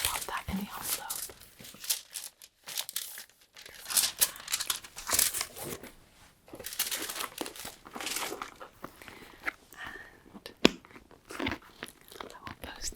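A paper tax return slides into an envelope with close, crisp crinkling and rustling in irregular bursts, broken by brief pauses, while a soft whispering voice talks over it.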